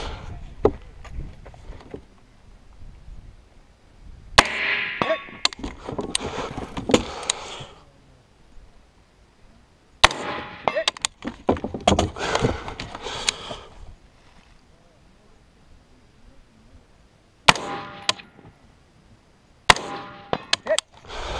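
Sharp rifle shots from a Pueblo tactical rifle at a shooting range crack out in several clustered bursts with quieter gaps between, each shot loud and near with ringing echo.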